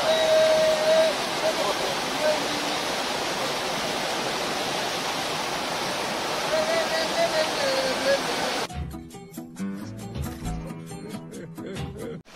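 A secret bathing waterfall in Hamren roars as a loud, dense, continuous rush of falling water for most of the stretch, then gives way abruptly to music.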